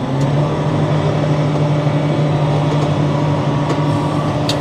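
John Deere See and Spray field sprayer moving off, a loud, steady engine hum with constant low drone and broadband rumble throughout, no talk.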